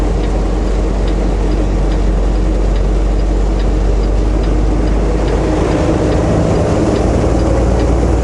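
An empty semi truck engine runs at low RPM, around 850 to 900, while driving in rain and snow. It makes a loud, constant, unbroken rumbling drone throughout.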